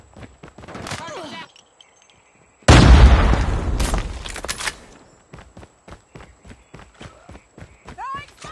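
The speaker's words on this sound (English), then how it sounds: "Grenade out!" A grenade detonates in a military video game, a loud close blast with a rumbling tail lasting about two seconds, framed by footsteps and brief shouted voices.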